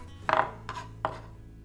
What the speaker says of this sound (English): chop the stems up in your cilantro as well as the leaves